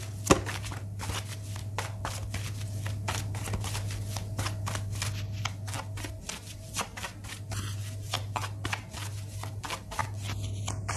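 Tarot cards shuffled continuously for several seconds, a dense run of quick papery riffles and slaps with a steady low hum underneath, close and moderately loud with no talking.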